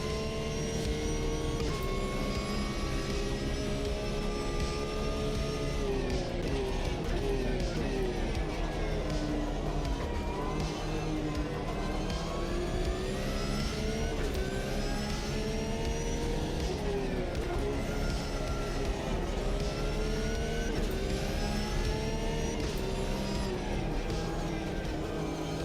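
Racing car engine in a VR sim racing game, droning continuously and climbing in pitch through repeated accelerations, moderately loud and constant across the lap.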